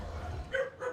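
A dog barks twice, short and fairly faint, inside a low-income apartment building in the Philippine capital, over a low background rumble.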